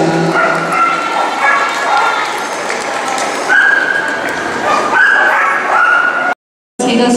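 Small dogs yip and bark repeatedly at a dog show demonstration, with a loud, busy mix of excited barks under continuous talking from a person and surrounding crowd noise.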